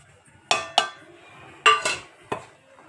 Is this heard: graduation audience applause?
no